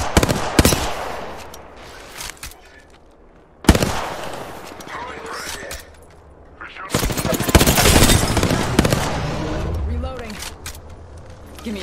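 Gunfire in a video game shooter: sharp loud shots and bursts at intervals, including a dense volley late on, mixed with in-game effects under talking voices.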